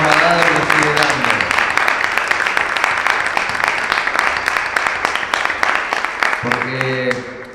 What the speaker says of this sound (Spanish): Muy fuerte aplauso por todo lo que nos ha dado y nos sigue dando.